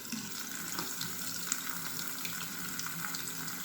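Cold water runs steadily from a tap into a sink, a continuous close splashing stream with no talking.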